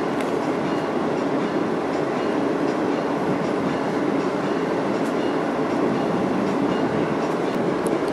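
A train rumbles steadily and continuously at close range as it arrives at Penn Station, with a dense, even roar of wheels and carriage noise throughout and no talk.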